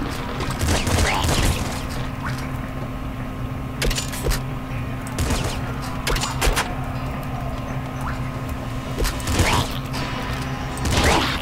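Grenade launcher shots and explosions in the Nuclear Throne video game, bursting several times over a steady game music bed, with faint talk underneath.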